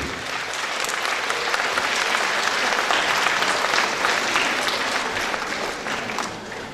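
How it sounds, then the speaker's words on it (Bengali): Audience applause at a Rabindra Sangeet concert gathering, steady dense clapping from a large crowd that holds at full strength throughout, then begins to thin slightly toward the end. "আরও একটু জোরে করতালির আশা রাখছি।"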